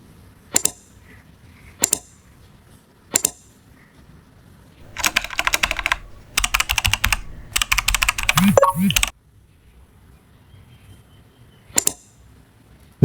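Typing a national ID card number on a computer keyboard, with a few isolated key taps, then two rapid bursts of clicking close by, followed by quiet and a couple more single taps.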